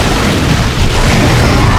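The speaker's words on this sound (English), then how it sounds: "I always need to use the line gun on the tank" Heavy, booming blasts as a line gun fires on the tank in the video game Dead Space, a loud dense roar with rumbling low end that stays sustained and unbroken throughout.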